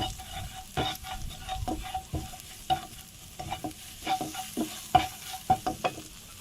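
Shrimp stir-fried in a pan with sliced red and green chillies, giving a steady sizzle broken by repeated scraping and stirring strokes of a utensil, close and fairly quiet, with no talking.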